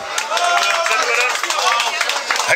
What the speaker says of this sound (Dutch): Mag je een groot applaus voor.